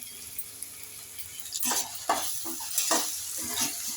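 Ginger-garlic paste fries in a pan alongside onions, with a soft sizzle beneath several bursts of stirring as a utensil scrapes and clinks against the pan.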